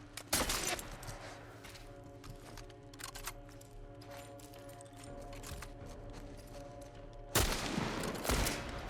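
Gunfire in The Last of Us breaks out in sharp bursts over a steady game soundtrack, with a loud cluster of shots near the start, scattered quieter cracks through the middle and another heavy volley near the end.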